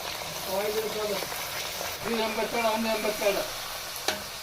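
Oil sizzles and crackles steadily in a home frying pan as food is stirred, loud and close, with a brief clatter near the end and a voice talking faintly underneath.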